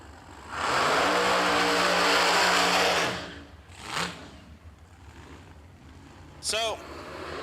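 A drag racing car engine roars loudly for a few seconds and then cuts off, followed by quieter background noise and a brief high squeal.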